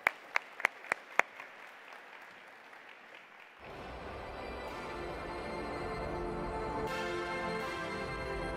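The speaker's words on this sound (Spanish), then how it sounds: "Por favor, un aplauso para él" At a national education forum, a few isolated, sharp claps ring out in a quiet room, then a broad, sustained wash of audience applause swells in and holds steady, welcoming the writer William Ospina.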